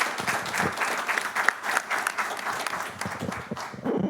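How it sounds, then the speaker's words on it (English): An audience at a school board meeting claps in sustained applause, dense and steady for several seconds with a slight lull near the end before picking up again. "Let's give her another round of applause."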